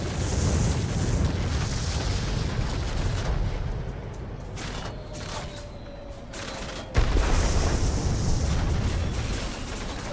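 Incoming fire and explosions in World of Warplanes around a Tier IX Messerschmitt Me P.1099 B-2 attack aircraft: dense, continuous booming and crackling gunfire with a roaring engine, easing briefly before a sharp heavy blast brings the din back.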